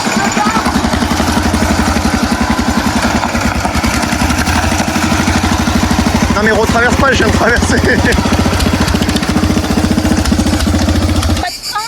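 Modified ride-on lawn mower tractor engine running steadily close by with a loud, throbbing mid-pitched drone that cuts off near the end, while people talk over it.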